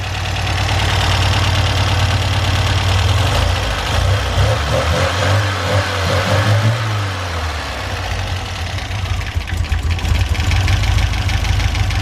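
A 1977 MGB GT engine idling just after start-up, a loud, continuous, slightly uneven mechanical rumble with a knocking edge that holds steady throughout.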